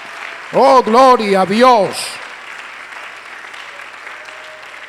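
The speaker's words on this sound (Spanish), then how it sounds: "Démosle fuerte ese aplauso al Señor" Applause from a church congregation runs as a steady background wash, while a voice calls out loudly over it near the start.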